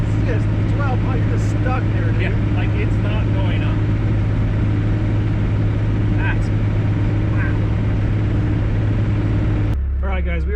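Truck engine at full throttle climbing a hill while towing, a loud sustained low drone with steady pitch filling the cabin, voices talking over it, cutting off abruptly near the end.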